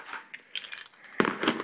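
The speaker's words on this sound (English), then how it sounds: "I have the key fob for the car key, the apartment key, and the mailbox key for my apartment" Several small metal keys on a keychain with a car key fob jangle and clink close by, with a sharper burst of rattling in the second half, no voices.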